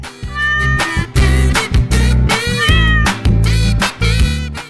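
A kitten meows repeatedly in short, high, wavering cries over a steady musical backing, close and loud.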